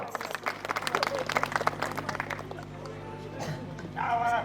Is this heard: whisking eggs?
no